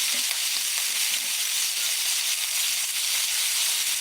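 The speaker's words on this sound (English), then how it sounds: "when you are frying the pork, you don't want to stir the pork around all that much" Pork sizzles and fries steadily in a Lodge cast iron wok with chili peppers, a close, continuous bright hiss with faint crackles throughout.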